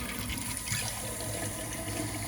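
Water pouring and filling the inner pot of a Zojirushi NP-HCC10 rice cooker, a steady continuous gushing stream, close and moderately loud, with no talking.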